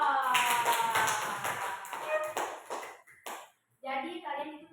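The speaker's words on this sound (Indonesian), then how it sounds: "Oke, beri aplaus." A class of students applauding together in an Indonesian classroom, a burst of loud claps mixed with children's voices, briefly pausing before another short round of clapping.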